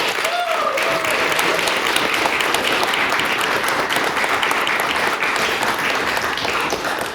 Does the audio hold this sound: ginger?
no